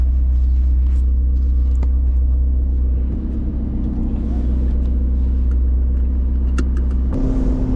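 A McLaren 650S sports car's engine drones steadily from inside the cabin while driving, a loud, continuous low rumble that shifts in tone near the end as the car changes gear.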